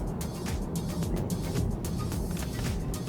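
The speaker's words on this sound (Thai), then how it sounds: "ช่วงล่างเนี่ย เวลาตอนขับสปอร์ตเนี่ยนะครับผมลองเข้าโค้งให้ดู" A BMW 330Li M Sport LCI sedan with a long wheelbase takes a corner, its engine and road noise holding a steady moderate rumble with brief ticks and swishes throughout.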